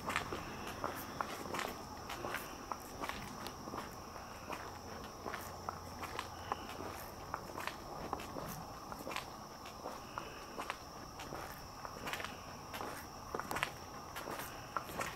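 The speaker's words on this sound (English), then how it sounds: "There's a whole lot of insects out tonight." Insects chirp steadily outdoors at night near a bridge, a constant high, thin buzz under a pattern of footsteps crunching on the ground throughout.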